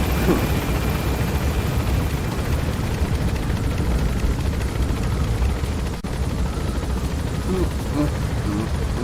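A helicopter in Metal Gear Solid V: The Phantom Pain gives off a steady, loud rotor roar and dense rumble throughout, with a voice talking over it.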